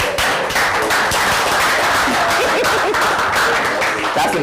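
Audience applause fills the space, dense, loud and steady clapping from a sizeable crowd that continues throughout without letting up.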